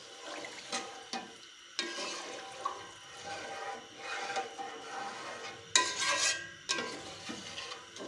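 Vermicelli with sugar and green cardamom coming to a boil in a pot, giving a continuous bubbling, watery rush with surging bursts and stirring sounds close by.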